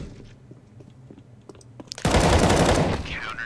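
Gunfire in CS:GO starts about halfway through as a sudden loud, dense burst of rapid shots that keeps going to the end, after quieter clicks and movement sounds.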